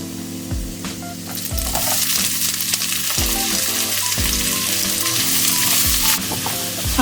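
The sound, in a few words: onion sauteing in a pan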